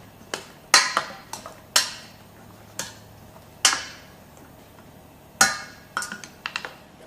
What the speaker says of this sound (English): Just stirring the pasta here so it doesn't boil over